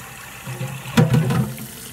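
Tea-stained fabric being rinsed under running tap water, heard as a short close gush of flowing, splashing water that swells in the second half.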